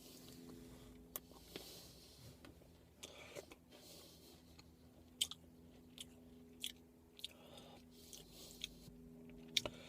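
Crunchy chocolate-covered Pocky biscuit sticks being chewed close up, a quiet run of small crisp bites and crunches spread across the stretch over a steady low background hum.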